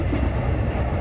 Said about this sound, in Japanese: この電車は大井町線直通急行大井町行きです。